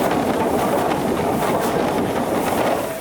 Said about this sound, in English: At this moment in time, the engine is slipping on the rail